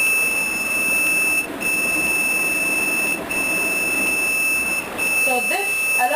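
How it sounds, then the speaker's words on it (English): Buzzer alert from a MATLAB-based fire detection setup triggered by camera image processing: a steady, piercing electronic tone held almost continuously, broken by brief dips, with faint chirping near the end and a background hum. "So now whenever a fire being detected in front of the camera, easily you get a buzzer indication at the output side."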